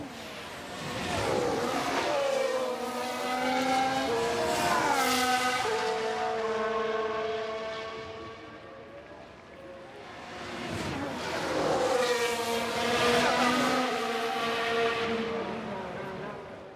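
Formula 1 cars race around the Brazil circuit in the F1 Manager 2023 game, their high-pitched engines whining loudly and continuously, swelling and fading as they pass, with a voice talking faintly underneath.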